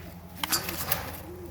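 A young Serbian Highflyer pigeon in a loft gives a short, soft coo, a low rising-and-falling burr up close with slight rustling around it.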